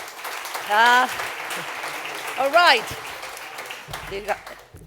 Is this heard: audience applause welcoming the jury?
yes